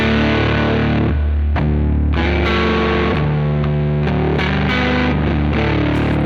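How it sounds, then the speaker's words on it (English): A loud, heavily distorted electric guitar tuned to drop D plays a chugging blues rock riff with sustained chords and brief pauses, thick and saturated throughout. "You can also add slightly more distortion."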